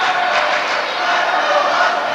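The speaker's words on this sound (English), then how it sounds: "And the crowd on its feet for this one." A packed volleyball arena crowd, on its feet at a 1989 women's college match against Nebraska, roars and cheers in a loud, sustained wall of noise.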